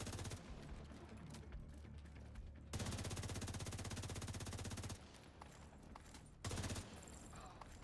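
Gunfire in a Division 2 style shooter, dense rapid volleys of shots forming steady rattling bursts that start and stop in segments, fairly quiet overall, with a brief louder burst near the end.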